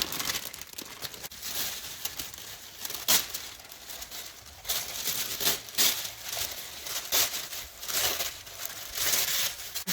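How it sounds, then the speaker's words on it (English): Gold tissue paper being crumpled by hand, a continuous crinkling rustle with sharper crackling peaks, close and fairly loud, no talking. "Crumpling it up"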